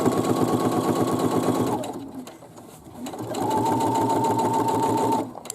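A sewing machine stitches along the bottom of a fabric drawstring bag, running in two steady rapid bursts separated by a short pause, close and clear.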